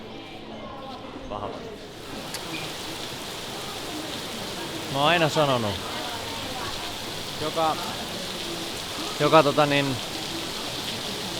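Rain falls in a steady, even hiss throughout, while a person talks briefly in the background.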